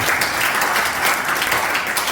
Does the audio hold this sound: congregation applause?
yes